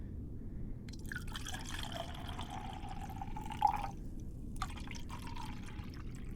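Liquid pours steadily for a few seconds with a rising gurgling tone, pauses briefly, then pours again in a shorter burst, close and fairly quiet.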